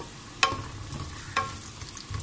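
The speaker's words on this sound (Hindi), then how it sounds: "आधा कप तेल यानी 4 टेबल स्पून तेल मैंने गरम करके रखा हुआ है, उसमें मैं ये प्याज डाल रही हूँ" Onions dropped into half a cup of hot oil for vegetable pulao, giving two soft splashy hits followed by a quiet, steady sizzle with light stirring, close and fairly faint with no talking.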